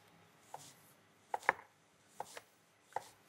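A kitchen knife finely chops food on a board in a French chef's kitchen, giving a few sparse, crisp taps spaced irregularly against a quiet background with no talking.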